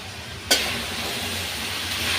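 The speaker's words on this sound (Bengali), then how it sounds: "একটু উল্টা পাল্টা নেড়ে দিই।" Red amaranth greens fry in a pan with a continuous hissing sizzle, broken early by one sharp clack of stirring, then settling back into an even, close sizzle with no talking.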